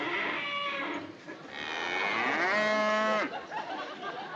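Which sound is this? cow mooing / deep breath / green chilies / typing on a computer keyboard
cow mooing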